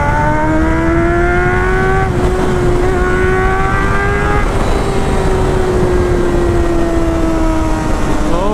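A 1999 Honda CBR 600 F4 motorcycle engine screams loudly and continuously, its high-revving whine climbing in pitch, dipping briefly between gears, then rising again.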